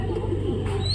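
Siraji and Lakkha pigeons paired with their chicks give a soft, steady cooing, close by and alone, with a low hum running beneath throughout.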